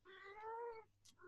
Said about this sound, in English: my cat to stop meowing